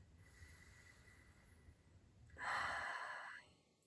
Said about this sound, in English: taking 3 big breaths